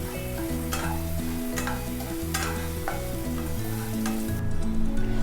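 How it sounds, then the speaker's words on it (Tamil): Onions fry with salt in a pan for paneer pepper fry, giving a loud, constant sizzle with occasional stirring clinks, close up and with no voices. "ஆனியன் நல்லா ஃப்ரை ஆகட்டும்."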